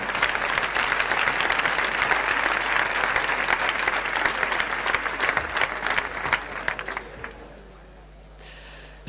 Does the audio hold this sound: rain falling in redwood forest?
no